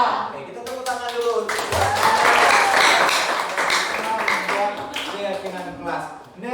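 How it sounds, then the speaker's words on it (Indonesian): Schoolchildren in a classroom clap their hands in rhythmic unison, starting light and building to loud dense clapping before it tapers, with voices talking over it. "Oke, kita tepuk tangan dulu."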